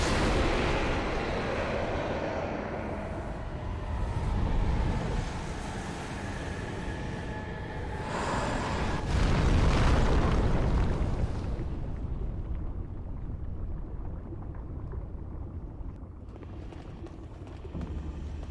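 Heavy booming blasts from harpoon guns in the video game Demon's Souls, a continuous rumbling roar with surges around the middle, loud and close, fading into a lower rumble toward the end.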